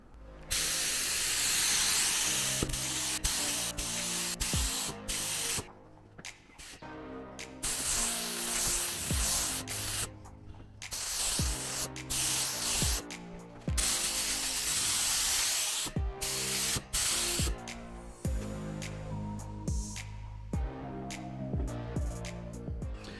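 Spray primer is applied to the roof panels of a VTEC Mini in a long series of loud, close hissing bursts, each separated by short silent gaps as the nozzle is released and pressed again.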